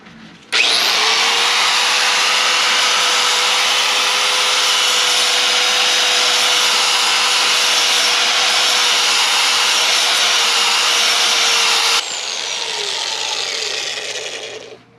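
A power sander works an H22 stock intake manifold during porting, a loud, steady broadband whir that runs unbroken for about eleven seconds, then drops to a slightly softer spin-down near the end, with no talk.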